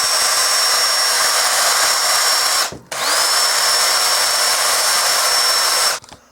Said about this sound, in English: And drill through the other side, all the way through.